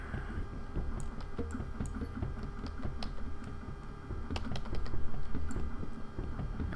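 Fingers tap on a computer keyboard in quick, uneven bursts of close, crisp key clicks, with a few louder strikes and short pauses between runs.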